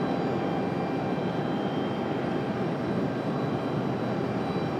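An airplane on the runway at Raleigh Durham airport, a steady, loud engine roar that holds constant throughout with no voices.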